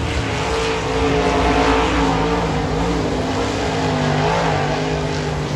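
Dirt track race cars roar around Eldora Speedway in Rossburg, Ohio during hot laps and prelims, a loud continuous engine drone with pitch shifts as the cars pass and the throttle changes.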